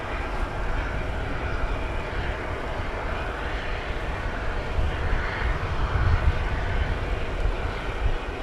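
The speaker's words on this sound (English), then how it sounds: "This aircraft going to RFD, the Rockford Airport in the Chicago vicinity." An airplane passes over near DFW Airport at night, a loud, broad engine roar that holds steady and swells slightly toward the end.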